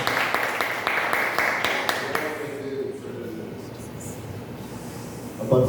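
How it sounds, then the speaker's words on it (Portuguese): A church congregation at a worship service held in a garage applauds with a brisk run of claps that fades after about two seconds, leaving a low murmuring room. "Peço, irmãos, que aplaudam o nome do Senhor mais uma vez."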